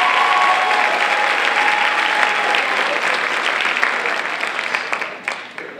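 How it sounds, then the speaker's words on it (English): Loud, sustained applause from a crowd at a pageant for the judges, dense clapping that carries steadily before tapering off near the end. "Let's give all of our judges a round of applause."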